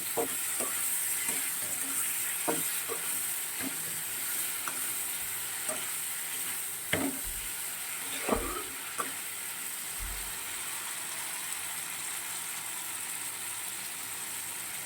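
Green chillies frying in oil for a fish curry, a steady close sizzle with scattered clicks and scrapes of a spatula stirring, continuing evenly throughout.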